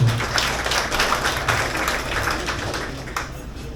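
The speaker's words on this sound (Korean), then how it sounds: "다시 한 번 박수 부탁드리겠습니다" Guests at a chamber of commerce luncheon clap together in a steady, fairly close round of applause that gradually thins toward the end.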